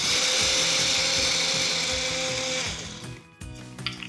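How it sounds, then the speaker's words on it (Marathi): A kitchen mixer grinder whirs loudly and steadily as it powders roasted dalia, then winds down near the end with a short rattle. "हे भाजलेलं डाळवं मिक्सरमध्ये आपण याचे पूड करून घेऊयात"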